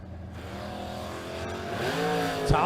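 A Chevy Camaro and a 1995 Ford Mustang Fox body at a drag strip: a steady engine drone that builds and rises in pitch with layered harmonics, a sharp burst near the end, heard from a distance.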